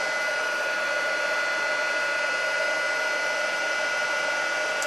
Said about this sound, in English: This is a fairly large area to heat emboss